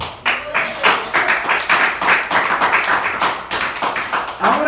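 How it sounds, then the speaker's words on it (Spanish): A church congregation claps in a rhythmic, fairly close burst of hand claps that continues steadily for several seconds. "Si lo va a aplaudir, apláudalo."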